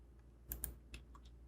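Computer keyboard keys being pressed, including the space bar, a few sharp separate clicks close up in a quiet room.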